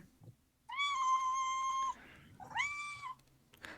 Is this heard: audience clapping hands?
no